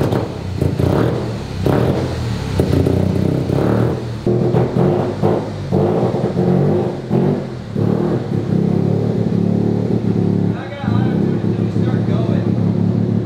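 A 650cc single-rotor rotary engine speedster revving on the road, loud raspy engine bursts rising and falling in repeated surges, with people talking over it.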